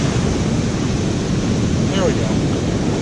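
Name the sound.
ocean wave washing up on sandy beach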